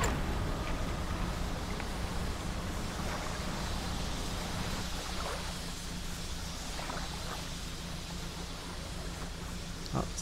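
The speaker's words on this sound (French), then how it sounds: "Ça y est, l'océan commence à faire des bruits chelous." Ocean ambience in the fishing video game Dredge: a steady wash of surf and wind with low rumbling, joined by scattered faint odd creaks and tones in the second half, continuous and fairly quiet with no talk.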